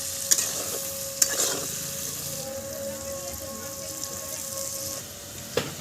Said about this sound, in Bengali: এখন সমস্ত কিছু খুন্তির সাহায্যে একটু নেড়ে দিচ্ছি।